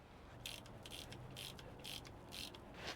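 Ratchet clicking in short repeated bursts, about five of them, while a differential drain plug is snugged down on a Ford F-150. Each burst is crisp and close, with a faint steady hum in the background.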